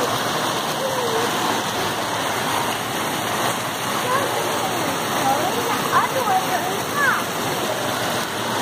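Water fountain splashes in a steady, rushing spray outdoors, with voices and occasional chatter faintly mixed over the continuous water noise.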